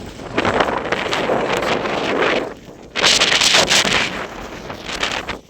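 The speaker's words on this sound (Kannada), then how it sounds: "ಫುಲ್ಲು ಜೋರು ಗಾಳಿ ಬರ್ತಾ ಇದೆ." Strong wind roars and buffets the microphone at the rainy Kyathanamakki (Gaaligudda) hilltop viewpoint, loud gusts with a brief lull in the middle before blasting again.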